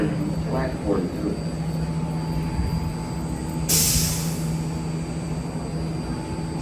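A six-car BART Red Line train to Richmond rumbles steadily at Embarcadero station in San Francisco, a continuous low drone with a brief hiss partway through, while people talk faintly nearby.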